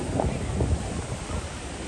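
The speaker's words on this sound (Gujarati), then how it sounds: "કેટલો મોટો દરિયો છે, કેટલો ઠંડો ઠંડો પવન આવે" Gusty wind buffets the microphone near the sea, a low rumbling roar with a faint wash of surf behind it and no talking.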